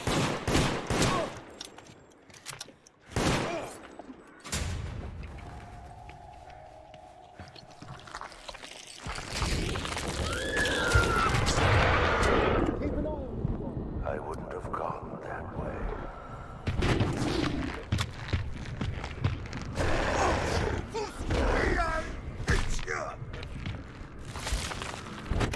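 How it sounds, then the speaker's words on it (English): Video game gunfire comes in repeated sharp bursts and volleys mixed with scuffling movement and a steady background wash. It is loud and close and continues through most of the stretch, with only faint voices. "Alex was shooting with them."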